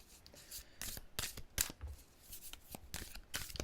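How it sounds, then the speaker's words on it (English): Tarot cards shuffled by hand up close, a quiet run of short, papery riffling and sliding bursts in an irregular rhythm, with no talking. "let's just give these another shuffle."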